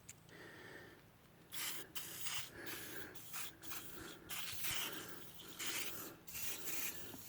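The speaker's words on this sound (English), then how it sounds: "Now the magical WD-40." WD-40 hisses from an aerosol can onto a car headlight lens in a run of short, close bursts of steady spray separated by brief pauses.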